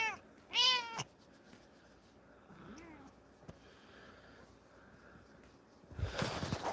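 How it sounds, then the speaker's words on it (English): A cat meows twice in quick succession while being petted, close and clear, followed by a softer trill and quiet rustling. "Pet the cat."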